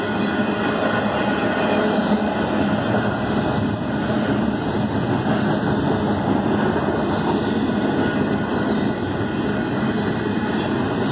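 Union Pacific 7655 freight train passing through rural Saint Elmo, Illinois, a loud, steady rumble and rolling roar of cars on the rails that holds unbroken for the whole stretch.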